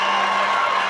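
Packed crowd cheering at a Wisconsin vs Minnesota dual track meet in Madison, a loud continuous roar of voices for a brief moment.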